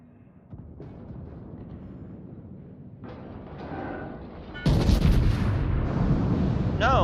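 Ship guns of the Scharnhorst fire in a naval video game, deep booming shots building from quiet rumbles to a loud, dense burst of cannon blasts near the end, with no talk.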